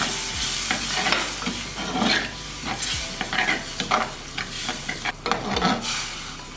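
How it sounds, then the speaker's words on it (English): Fish molee ingredients sautéing in a pan for a Kerala-style fish curry, with a steady sizzle and repeated stirring scrapes at close range, no talk. "We will saute it for a minute or so."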